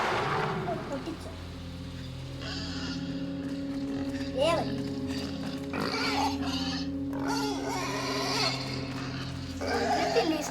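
A pig in Playdead's game Inside grunts and squeals now and then through a steady low droning backdrop, while a person talks excitedly over it for much of the time.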